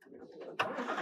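Engine starting on a 2021 Ford GT street-legal racecar: a short cranking whir followed by a sudden loud catch as the engine fires and settles into a rough, rumbling idle, all within about a second.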